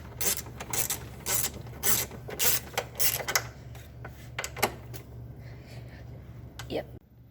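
Metal ratcheting and clicking from bolts being tightened on the body plastics of a 1986 Honda Fourtrax, in quick bursts with pauses, over a steady low hum and some background talk.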